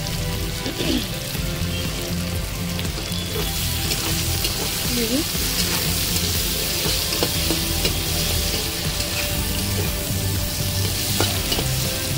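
Onions fry lightly in a pan for a kohlrabi fish curry, a continuous close sizzle with soft crackling and occasional faint stirring throughout.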